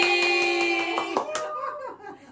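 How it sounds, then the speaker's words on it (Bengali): A short burst of several quick hand claps, bright and close, fading out after about a second and a half. "এ হাততালি হাততালি হাততালি"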